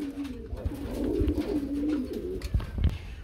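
Pigeons coo in a steady, continuous low warble close by, with a few soft rustles and wing or foot noises; there is no talking.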